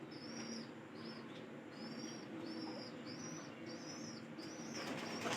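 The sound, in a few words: pigeon cooing and flapping wings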